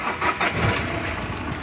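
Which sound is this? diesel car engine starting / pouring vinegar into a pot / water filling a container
diesel car engine starting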